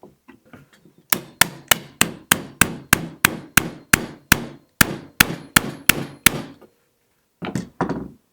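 Repeated hammer taps drive a shotgun's factory handguard tenon back into its barrel dovetail slot, about fifteen sharp close strikes in a steady rhythm followed by a pause and two more hits.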